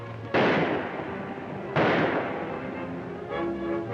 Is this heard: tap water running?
no